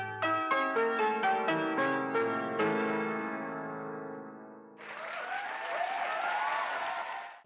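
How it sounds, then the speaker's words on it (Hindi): Audience applause erupts on a TV dance show, loud and dense, following a short descending run of musical chimes. "जोरदार ताली"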